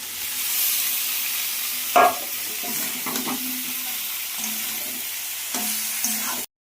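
Mutton pieces frying with ground masala in a pan, a steady close sizzle with a few sharp clinks of stirring utensil against the pot, ending abruptly.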